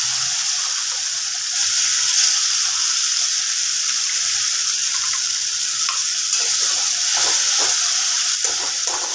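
Spice paste, later joined by ginger-garlic paste, sizzles in a hot pan as it is stirred and fried down: a steady, loud, close hiss with a few faint scraping taps and no voices.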